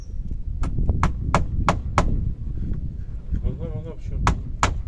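Small nails are hammered into wooden cladding boards on a wooden cabin build, with a series of sharp, close blows in quick bursts and a brief mechanical whir between strikes.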